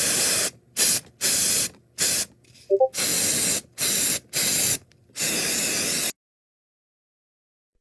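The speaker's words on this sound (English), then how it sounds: "I will pepper spray your eyes" Pepper spray hisses from a can in a run of close, sharp bursts of uneven length, the last one longest, then silence.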